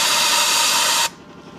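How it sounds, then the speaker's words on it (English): Compressed air roars steadily through a Fiat exhaust header on a flow test, a loud, broad hiss that cuts off abruptly after about a second, leaving a low residual rush. "This is a pretty noisy test to do with air blowing through your manifold."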